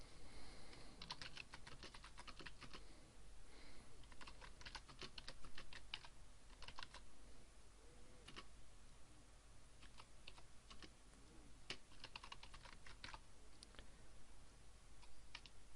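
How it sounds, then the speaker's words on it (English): Fingers type text on a computer keyboard, producing a steady run of quiet, close key clicks with brief pauses between bursts and no talking. "And then I'm going to type a bit of text in."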